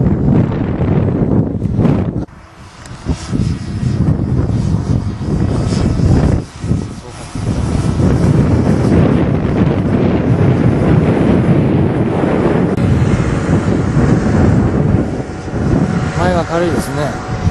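Strong wind gusts roar across the microphone at an RC model airplane flying field, a loud, nearly continuous rush with brief lulls, while people talk over it.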